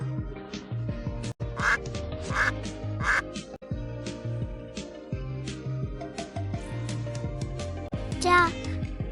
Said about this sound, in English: Duck. This is a duck.